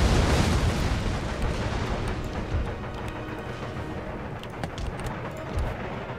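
Rocket artillery fires in the strategy game Empire Total War, a dense roaring rumble of launches and explosions that stays loud throughout with scattered sharper cracks on top.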